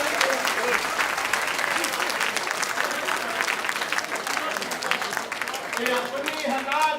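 Loud, sustained audience applause fills a Hindi comedy poetry gathering, a dense, even wash of clapping with a few voices mixed in near the end.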